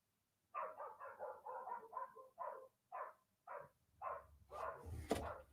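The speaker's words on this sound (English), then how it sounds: "What is that dog doing out?" A dog barks repeatedly at close range, a quick rhythmic run of about a dozen sharp barks with short pauses between them and a brief thump near the end.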